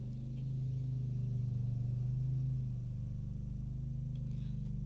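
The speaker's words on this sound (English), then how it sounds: "Sorry about the lawnmower." A nearby lawnmower runs with a steady, low droning engine rumble that swells slightly midway and holds constant throughout, with no voices.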